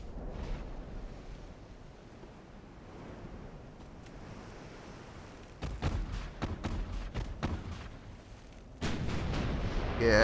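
Naval secondary guns fire in the warship game Ultimate Admiral: Dreadnoughts, heard as a run of sharp, separate booms over a low wind-and-surf wash, growing denser and louder toward the end.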